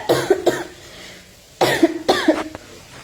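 Two separate bursts of harsh coughing, each a quick pair of rough hacks, close by with a short quiet pause between them.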